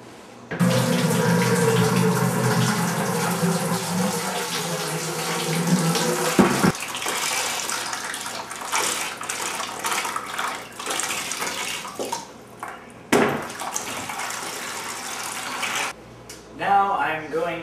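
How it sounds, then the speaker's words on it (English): Tap water runs into a bucket to about 2.5 to 3 gallons for home beer brewing, a strong continuous splashing flow that stops and restarts a few times, with short gaps near the end. "I'll go ahead and put the water in this bucket"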